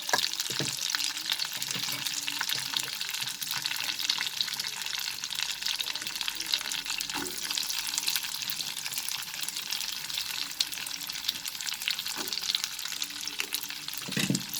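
Onions sauté in a pan with chopped ginger and garlic over a medium flame for chilli gobi. A continuous bright sizzle holds throughout, with occasional soft knocks of a stirring utensil, and no voices.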